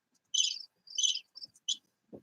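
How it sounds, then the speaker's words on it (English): A cricket chirping sound effect plays as several short, high trilled bursts separated by brief silences, clean and isolated against a quiet background. "Give me the cricket."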